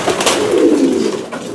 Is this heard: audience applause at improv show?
no